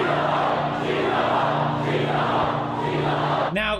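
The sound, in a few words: crowd chanting at KSI's stage show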